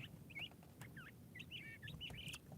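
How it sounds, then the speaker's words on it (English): A wild bird chirps and calls repeatedly on a Sunday morning outdoors, short quick notes spread over the moment against a low, steady background hum, faint and somewhat distant, with no talking. "There's a bird over here. It's been talking all freaking morning."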